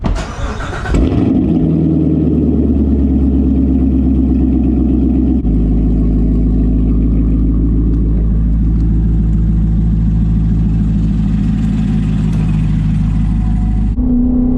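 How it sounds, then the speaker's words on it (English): A C7 Corvette Grand Sport with an AWE Track Edition exhaust cranks and fires up with a loud exhaust roar, then settles into a high, steady cold-start idle before dropping lower at the end. "this cold start's for you"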